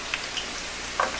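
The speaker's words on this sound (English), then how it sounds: "Our cellophane noodles have been frying for about 3 minutes" Cellophane noodles fry in oil, sizzling and crackling in a steady hiss, with a few sharper pops here and there.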